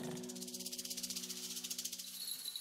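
A snake in the jungle gives a soft, steady hiss that pulses in a quick, regular rhythm, with faint tonal hums running underneath the whole time.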